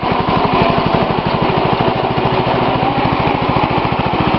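A small engine with a rebuilt LME carburetor runs steadily at raised throttle, a loud, close, rapid buzzing chug that holds constant throughout.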